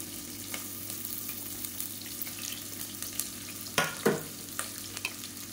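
Finely chopped onions sizzle and fry in a pan for a kuruma curry, a steady crackle with occasional stirring scrapes and a couple of louder clatters near the end, with no voices.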